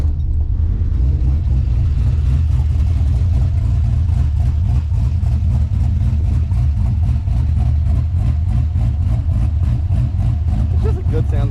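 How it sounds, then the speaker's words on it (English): A Ford Fairmont idles through its low-slung exhaust with a close, steady, loping burble, even rhythmic pulses continuing throughout, while someone talks over it. "It's just a good sounding car with that exhaust."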